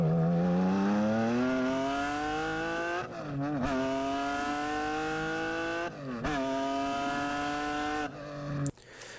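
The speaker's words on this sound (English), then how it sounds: "a nice low rev sample there, and also a gear shift sample" Car engine revving at low revs, with each pull climbing steadily in pitch before breaking off at a gear shift, repeated several times up close with no voices.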